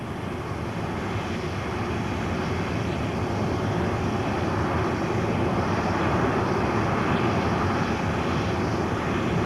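A large four-engine jet with reheated Olympus engines roars on takeoff, a dense, steady, wind-buffeted rush of broadband noise that stays loud and continuous throughout.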